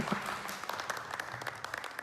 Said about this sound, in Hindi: जोरदार ताली से स्वागत करेंगे